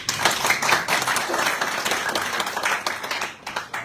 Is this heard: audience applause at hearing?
yes